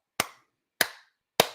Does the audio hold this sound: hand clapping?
yes